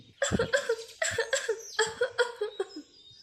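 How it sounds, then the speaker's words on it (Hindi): A voiced, cartoon-style cough from a poor sparrow maid character doing housework, about eight quick hacking bursts in an uneven run, close and clear. "वो लगातार खांसे जा रही थी"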